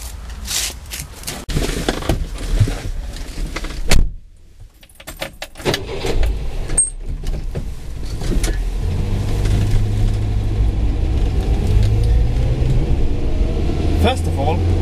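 A classic Italian Vignale car starts out with jangling keys and door and cabin clatter up close, then settles into a steady low engine drone as it gets under way, with some talk over it.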